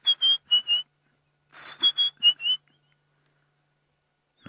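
White-browed scrub robin calling on safari, a clear series of short, high whistled notes in two bursts, fairly close and alone against a quiet background.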